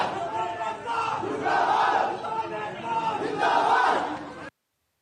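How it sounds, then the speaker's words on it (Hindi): A crowd of protesting farmers in Bhainswal chants slogans against the BJP and Sanjeev Balyan, with rhythmic group shouts rising in waves, loud and fairly near, before the sound cuts off abruptly. "भैंसवाल में संजीव बालियान और बीजेपी के खिलाफ जमकर नारेबाजी की गई।"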